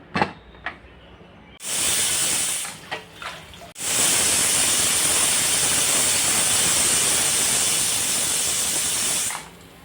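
A pressure cooker cooking goat tripe curry vents steam in loud, sustained hissing bursts: two brief blasts, then a long continuous jet that cuts off abruptly.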